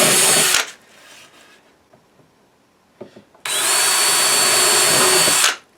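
A power drill boring holes into a knotty pine shelf: a loud high whine that stops, a quiet pause with faint handling noises, then a second longer burst of drilling before it winds down.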